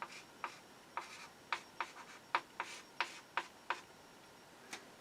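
Pen or chalk writing out a sine equation in steps, with about a dozen crisp, separate stroke taps and scratches in an uneven rhythm, close and fairly quiet, with no talking.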